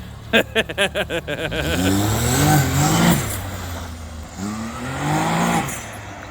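A 2021 Can-Am Maverick X3 Turbo revving on grass, opening with quick sharp throttle blips and then rising into longer wailing revs as the wheels spin, loud and close.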